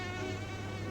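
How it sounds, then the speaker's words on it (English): Steady, close, buzzing insect hum like a mosquito, droning continuously at an even level with no other sounds. "like the sound of a mosquito"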